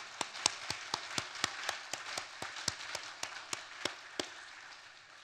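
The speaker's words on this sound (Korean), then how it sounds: "선교사님 우리 박수로 한번 크게 격려해 주시기 바랍니다." A church congregation claps for a missionary during a worship service: a light, fairly steady run of distinct hand claps, somewhat distant and modest in volume, with no talking over it.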